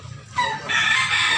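A rooster at a Cebu poultry market lets out one full, loud crow that swells midway and holds strong to the end, with faint clucking and market bustle underneath.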